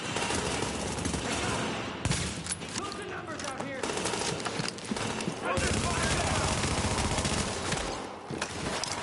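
Automatic weapon fire from a Dark Zone firefight in the shooter game The Division crackles in rapid, overlapping bursts, loud and continuous through the stretch, with voices talking over it.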